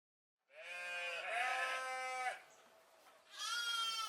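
Sheep on a modern sheep farm in Jember, East Java, bleat loudly and close by, one long wavering bleat followed by a second after a brief quieter pause.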